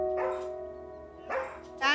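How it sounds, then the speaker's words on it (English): A dog barks in short sharp bursts at home, set off by a ringing phone: three yelps spread over two seconds, fairly close, with a steady electronic tone running beneath. "Living with a daily barrage of barking"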